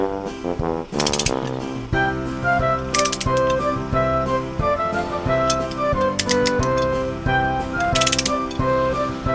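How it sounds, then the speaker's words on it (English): Loud, close clicking of a ratcheting breaker bar as it is turned, a fast mechanical pawl chatter in repeated strokes over a constant background tone, with no talking. "And yes, you get a ratcheting breaker bar. You can fix it like that if you want to loosen."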